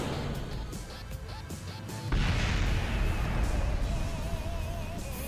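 Rocket explosion in Kerbal Space Program, a sudden loud burst about two seconds in that rolls into a sustained rumbling roar, preceded by quieter clattering game sounds.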